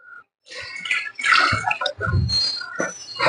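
Water being poured into a pot of basmati rice for biryani, a splashing, gurgling pour that starts after a brief pause and continues fairly close and loud, with intermittent bursts.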